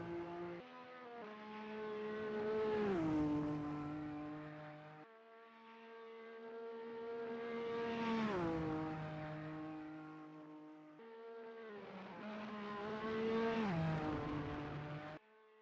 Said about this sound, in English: His engine screaming as he approaches the final couple of corners for the 35th and final time